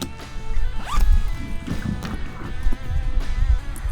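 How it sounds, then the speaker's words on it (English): Several quick zipper pulls up close on a tactical range backpack's locking double-zipper handgun compartment, rasping back and forth with soft rustling of fabric between strokes. "The handgun compartment does have a double zipper that is locking"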